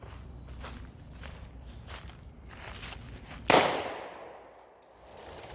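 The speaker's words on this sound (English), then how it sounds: "Let's shoot the machete with the beartooth." Outdoor gunshot from a Beartooth fired at a machete, a single sharp crack that rings out and fades after several seconds of footsteps and rustling on the ground.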